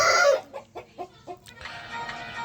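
Aseel rooster, a yellow Boska bird, gives a loud crow and then a short series of clucks, close up with a bit of farmyard noise behind it.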